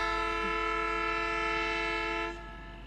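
A train horn blares in one long, steady blast for over two seconds, then cuts off, leaving the rumble of a superfast express train passing on the Calcutta–Madras main line.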